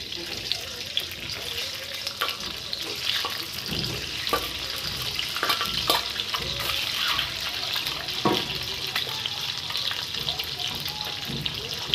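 Eggs frying in hot oil in a pan, a steady close sizzle laced with scattered pops and crackles that holds for the whole stretch without any voices.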